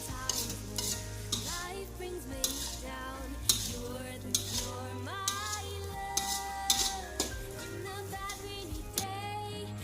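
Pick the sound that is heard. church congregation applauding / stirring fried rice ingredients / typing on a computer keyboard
stirring fried rice ingredients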